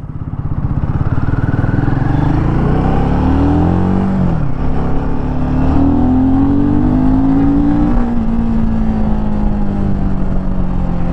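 The engine of a 2024 Royal Enfield Himalayan 450 motorcycle runs close by and loud, revving up and down with rising and falling pitch over a steady running drone, with no voices.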